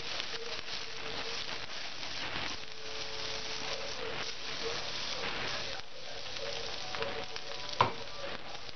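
Rice fries in garlic-flavoured oil spread across a paella pan, giving a continuous soft sizzle and crackle throughout, with a brief scrape or clink near the end.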